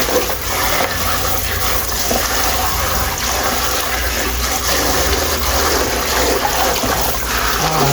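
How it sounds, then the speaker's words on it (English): Cold tap water runs in a steady gush over raw salmon being rinsed, a loud continuous splashing flow with no pauses. "I'm rinsing it in cold water one more time"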